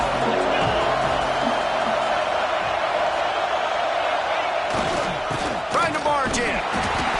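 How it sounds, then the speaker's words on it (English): A loud college football stadium crowd roars steadily through the whole stretch during a field goal attempt, with whoops, cheers and a few sharp bangs rising near the end. "This crowd trying to do its part to get inside the kicker's head"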